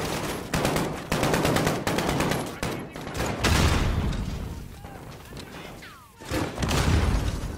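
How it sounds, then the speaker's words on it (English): Rapid bursts of gunfire crack out close and loud in Call of Duty Modern Warfare, with a few spaced single shots followed by sustained automatic fire and heavy booms. "Three shots."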